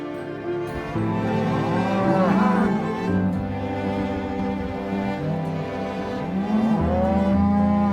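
Cattle lowing on a Wyoming ranch in spring branding season, several overlapping moos rising and falling across the stretch, with a steady low rumble of herd and outdoor noise throughout and no talk.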